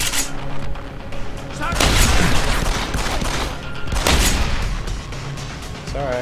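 Gunfire in the video game Deus Ex: Human Revolution, with shotguns in use, as a dense barrage of loud shots in two heavy bursts over constant game noise and effects.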